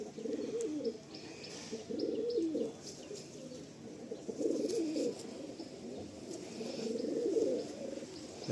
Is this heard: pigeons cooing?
yes